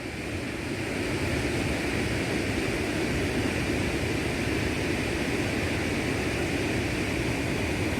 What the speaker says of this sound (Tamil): வாட்டர் ஃப்ளோ ரொம்ப அதிகமாக இருக்குது